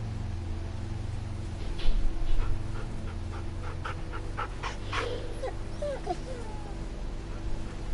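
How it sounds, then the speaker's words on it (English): A dog in The Walking Dead video game whimpers and pants close by, with soft rhythmic breaths and a few high whines over a low humming background. "Such a sweet dog."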